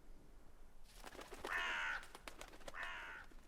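A crow in The Witcher 3: Wild Hunt gives two loud, harsh caws, the second after a short pause, standing out clearly against a quiet game background.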